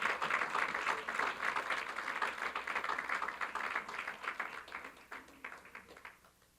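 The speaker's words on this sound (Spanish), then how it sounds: "Dele un aplauso al Señor" A church congregation applauds during a sermon, with a sustained wash of clapping that gradually thins and fades toward the end.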